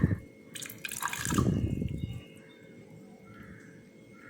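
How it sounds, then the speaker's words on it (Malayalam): Half a glass of water poured onto jaggery in a bowl, a brief splashing trickle in the first two seconds, then only quiet room noise. "ഇതിലിപ്പോൾ ഞാൻ 1/2 ഗ്ലാസ് വെള്ളം ചേർത്ത് കൊടുക്കുന്നുണ്ട്."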